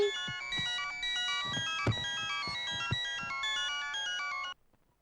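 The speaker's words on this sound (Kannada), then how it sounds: "ಏ ಡ್ಯಾಡಿ ಫೋನ್" A telephone ringtone plays a bright, repeating electronic melody for about four and a half seconds, clear and fairly close indoors, then stops abruptly.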